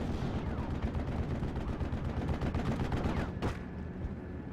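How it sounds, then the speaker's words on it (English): MG42 machine gun fire in a World War II strategy game battle, dense rapid bursts of shots that run continuously over a rumbling battlefield bed of further gunfire and distant blasts. "MG42 with its long range is hitting the M1919"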